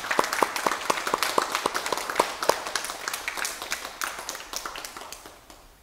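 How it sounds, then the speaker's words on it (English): A round of applause at a tea ceremony live stream: a burst of many hands clapping close by that thins out and fades away over several seconds. "A round of applause for this round."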